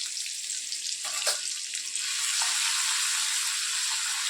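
Asafoetida, garlic and green chillies tempering in hot oil, a bright steady sizzle close by that swells louder about halfway through, with no talking.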